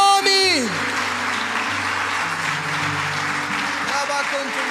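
A church congregation applauding, a dense, steady wash of clapping that holds throughout, with sustained musical tones beneath and a speaking voice at the start and near the end.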